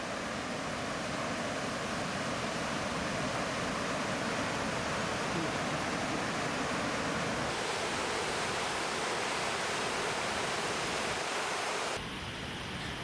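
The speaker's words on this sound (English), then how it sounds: "The sound of rushing water cascading down the rocks is intimidating." Rushing water cascades down rocks at Chiong Falls on the Chiong River in Guyana's highlands, a dense, continuous roar of broadband noise that is loud and unbroken throughout, with no voices.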